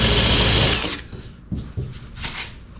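A power drill whirs loudly and steadily for about a second drilling a hole in the body metal of a 1957 Chevy, then cuts off, leaving a few quieter knocks and rustling handling sounds.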